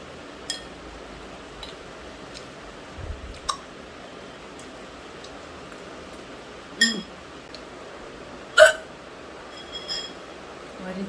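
A woman hiccups several times at uneven intervals, each a short sharp catch, in a quiet room with faint clicks between.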